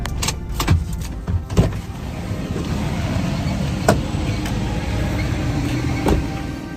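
A car draws near outdoors, a steady low rumble of engine and tyres holding throughout, with a few sharp clicks and knocks scattered over it and no talk.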